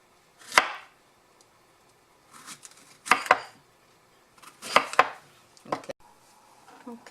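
A knife chops through peeled plantain on a cutting board, four distinct thuds, some doubled, with pauses between, close and clear with no talk.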